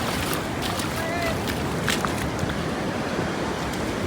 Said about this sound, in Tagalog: Kaya mo yung mga lakas ng alon eh.